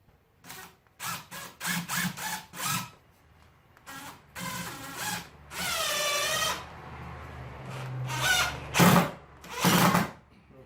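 Several short bursts of a power drill whirring, then a longer whine as self-tapping screws drive in without pre-drilling, with pauses between bursts and no talk.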